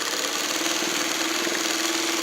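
A Singer 301A sewing machine stitching steadily across a fabric seam, a continuous fast mechanical whir and chatter with an even rhythm and no pauses.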